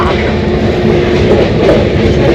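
A passenger train running at high speed on the Kolkata to Haridwar route makes a steady, loud rumble that fills the whole stretch, with faint rattling over it and no break or pause.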